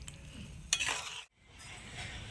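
A spoon scrapes and stirs eggplant pickle in a pan with a soft sizzle, including one brighter clink, then a brief dropout before the quiet stirring resumes.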